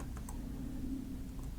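Quick keystrokes tap out a short search term on a computer keyboard, a brief soft clatter of keys close to the microphone over a steady low hum.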